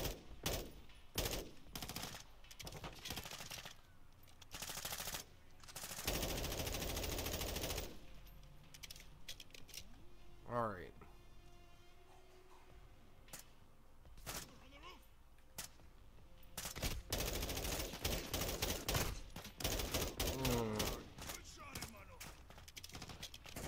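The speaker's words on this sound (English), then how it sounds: "I don't know where they're shooting from. Oh, on the damn roof." Gunfire in the video game Call of Duty Modern Warfare II from enemies on a roof, loud automatic bursts and single shots recurring throughout, a long sustained volley midway, with someone talking between shots.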